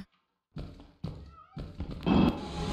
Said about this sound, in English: I hear a kitty cat near me!